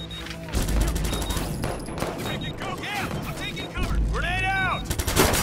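Gunfire from the Watch Dogs 2 video game: repeated bursts of shots and a fusillade, with electronic whooping tones and game effects mixed in.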